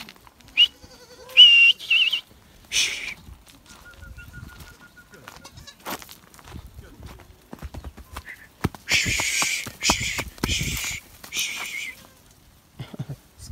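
Goats and their kids are herded from a field toward a pen, with scattered bleats and hoof clatter on the ground and a cluster of louder bleating near the end, while people talk now and then.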